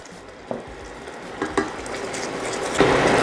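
A spoon stirs a vinegar and mustard marinade in a pot over a soft background sizzle, with three distinct clinks of utensil against the pan spaced about a second apart.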